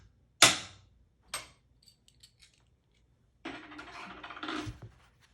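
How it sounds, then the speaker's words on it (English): A roll of half dollar coins banged on a hard table surface: one loud sharp knock, then a second smaller knock, then a few faint taps, ending in a longer stretch of rattling and scraping. "You'll hear me banging it on the table on a hard surface."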